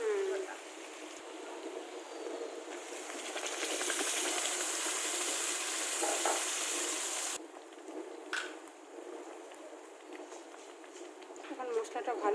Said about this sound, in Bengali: এখন মশলাটা ভালো করে কষিয়ে নেবো যত পর্যন্ত না তেল ছেড়ে যাচ্ছে।